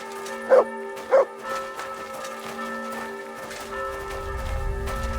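In the medieval video game Kingdom Come: Deliverance II, a dog gives two quick, loud barks close by over soft ringing game music. A faint low rumble comes in near the end.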